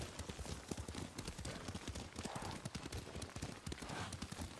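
Horse hoofbeats clip-clop at a steady gallop rhythm in the Ghost of Tsushima video game, fairly close and continuous with no speech over them.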